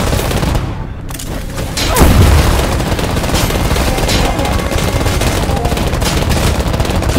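A frag grenade detonates in the video game Bombshell, giving one heavy low boom at about two seconds over a dense, continuous bed of gunfire and battle noise that runs the whole time.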